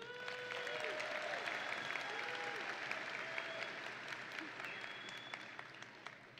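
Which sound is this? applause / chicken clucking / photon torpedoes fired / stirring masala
applause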